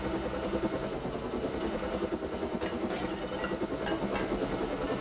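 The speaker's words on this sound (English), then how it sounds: "Time to see if this stealth copter is worth all the fuss." A stealth helicopter in the video game Deus Ex holds a steady rotor thrum and engine whine throughout, with a brief high electronic chirp partway through.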